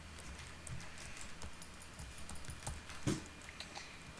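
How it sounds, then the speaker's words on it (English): Keys tapped on a computer keyboard, a quiet, irregular run of light clicks close to the microphone, with one louder knock near the end and no talking. "So now I'm gonna type in something"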